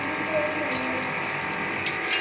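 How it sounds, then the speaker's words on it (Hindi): Small samosas fry in a pan of hot oil, making a continuous, close bubbling sizzle with a steady wash of hiss. "छोटे समोसे फ्राई हो रहे हैं जी।"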